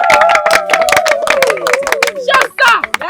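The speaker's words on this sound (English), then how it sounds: "Clap for yourself." A group claps together in quick, sharp, close bursts, several rounds of fairly steady clapping with voices speaking and calling over it.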